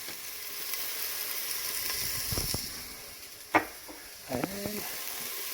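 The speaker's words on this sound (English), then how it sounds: "I'm going to throw a little bit of some onion in there. Just kind of get them sauteed up a little bit." Onions sautéing in olive oil in a preheated pan for enchiladas, a steady soft sizzle and hiss with a few clinks and knocks of utensils against the pan.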